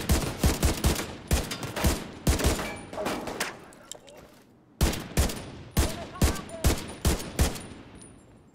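Rifle gunfire in Tom Clancy's The Division 2 comes in rapid, punchy bursts of shots. After a brief lull it resumes as a steady string of loud, close cracks, with a voice talking faintly in places.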